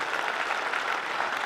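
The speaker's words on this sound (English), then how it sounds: "Big round of applause for those two whānau." Brief burst of crowd applause in an indoor basketball arena at a school championship, dense steady clapping from many hands.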